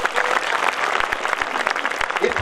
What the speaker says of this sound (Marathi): इतक्या जोरात टाळ्या वाजवा